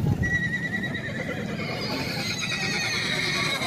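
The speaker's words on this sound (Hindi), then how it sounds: "ये घोड़े हैं और इस साइड पे भी घोड़े ही घोड़े हैं" Horses at an animal fair neigh and whinny in a loud, drawn-out call, heard nearby against the steady murmur of a crowded outdoor setting.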